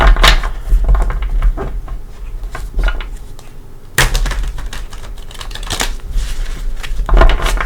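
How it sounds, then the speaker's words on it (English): Tarot cards are shuffled by hand with repeated riffling flutters and soft taps, close up, a few bursts separated by brief pauses. "I do like to shuffle it with you here also"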